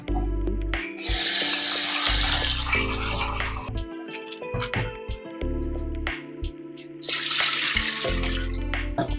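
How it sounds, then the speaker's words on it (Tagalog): Pork rinsed by hand under a running kitchen tap, for Filipino igado: steady gushing water into a sink in two long bursts with a quieter gap of handling and clinks between, close and fairly loud. "hugasan na natin yung pork natin"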